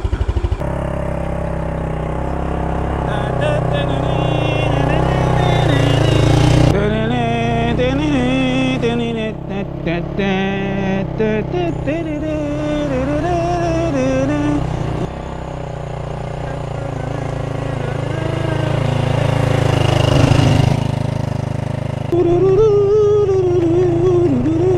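A motorcycle with a flooding carburetor idles and warms up on a cold morning at a campsite, a steady close engine rumble running throughout while people talk over it.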